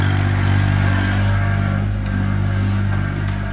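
Steady low rumbling engine of a tractor idling on an off-grid property during winter wood cutting, continuous and fairly loud with a constant drone and no talking.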